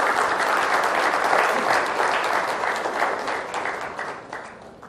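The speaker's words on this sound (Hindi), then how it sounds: "एक बार जोरदार तालियां खुद के लिए" A seminar audience claps loudly for themselves, a steady dense roar of many hands that holds strong for several seconds before slowly tapering off.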